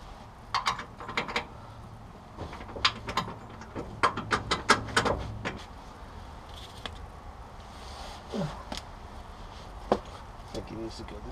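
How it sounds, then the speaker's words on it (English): Ratchet clicks in quick bursts while tightening the idler arm bolt on a 1972 Oldsmobile Cutlass front end, close and sharp, with someone talking at times between the bursts. "The good old tightening down the idler arm."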